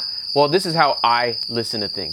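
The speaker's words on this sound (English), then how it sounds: "So right now you're hearing some crickets." Loud, constant high cricket chirping runs throughout while someone speaks over it.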